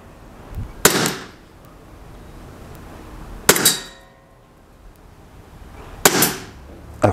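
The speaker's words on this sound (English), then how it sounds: "The chronograph didn't pick it up on the first two shots." Three sharp airsoft gun shots ring out through a chronograph, spaced a few seconds apart, each a crisp, close snap with a short ringing tail over a quiet background.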